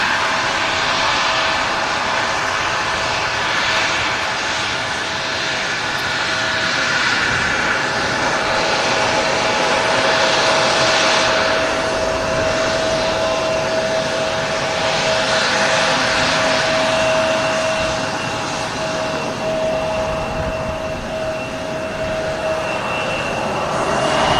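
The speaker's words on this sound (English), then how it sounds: "Great looking Embraer, this, with a huge winglets." Embraer jet engines at Manchester Airport in the evening give a loud, sustained whining roar with a steady high tone and broad rumble, and no voices are heard.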